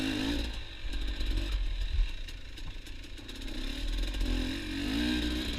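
A dirt bike engine drones while riding a narrow single-track mountain bike trail, with a steady, close engine tone that rises and falls slightly as the throttle changes, and no voices.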